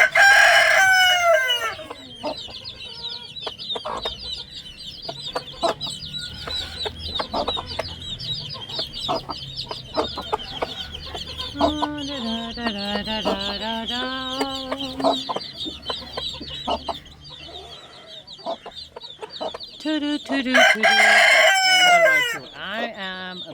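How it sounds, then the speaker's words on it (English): Chickens and chicks clucking and squawking loudly up close while pecking at rice, with frequent overlapping calls, a louder burst at the start and near the end, and a person talking intermittently underneath. "I am a bit scared of this chicken"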